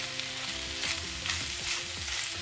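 Crushed ginger, thinly sliced onion and green chilies with curry leaves sauté in a pan for a Kerala-style pepper chicken, giving a steady close sizzle broken by a few stirring scrapes.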